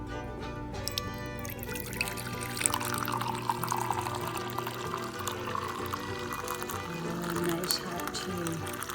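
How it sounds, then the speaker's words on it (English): Hot tea pours from an old teapot into a cup, a soft, steady liquid trickle and splash heard close up over faint background noise for several seconds. "now we're going to pour the cup of tea"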